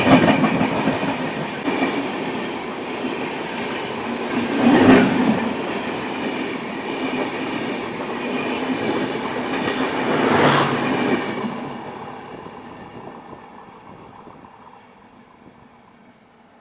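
An Indian Railways Nagaland Express runs behind an ALCO WDM3A diesel locomotive, with steady coach rumble and wheel clatter throughout and two louder passing surges before the noise gradually fades.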